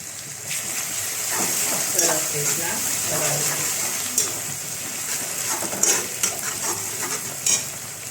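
Curry leaves and whole coriander seeds sizzling in hot oil with ginger-chilli paste while vada pav filling is made, a steady loud hiss with stirring clatters and brief crackling pops throughout.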